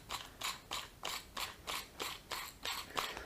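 A Worx drill chuck is turned by hand and tightened onto the drill, giving a regular run of about eight short ratcheting clicks, quiet and close, with no talking.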